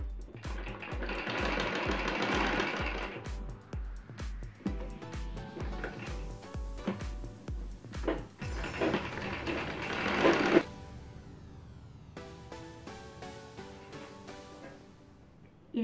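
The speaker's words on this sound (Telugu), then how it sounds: "కాలర్ ఏ షేప్ ఉంటే ఆ షేప్లో దీన్ని కుట్టుకోవాలి." A sewing machine stitches a uniform shirt collar in rapid mechanical bursts, a fast rhythmic whir and clatter that starts and stops several times, close up, with quieter handling noises between runs.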